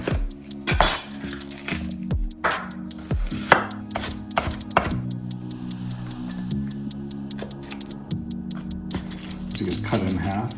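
A kitchen knife cuts through carrots, celery ends, onion and potatoes on a board while stew is prepared, giving repeated sharp chopping taps with light clinks of utensils, close and clear over a steady low background.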